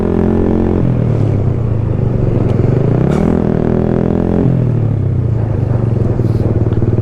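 A Honda Supremo motorcycle with a loud aftermarket exhaust pipe idles and revs nearby, a heavy throbbing rumble that swells in pitch twice and settles back, loud and continuous.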